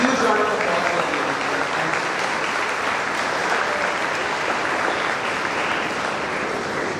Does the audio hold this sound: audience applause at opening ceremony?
yes